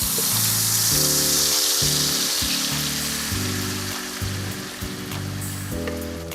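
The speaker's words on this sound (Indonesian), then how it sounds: "siapkan teflon, panaskan sedikit minyak, lalu masukkan cabai merah yang tadi sudah dihaluskan" Ground red chili frying in a little hot oil in a nonstick pan, a steady loud sizzle and crackle throughout, with background music playing over it.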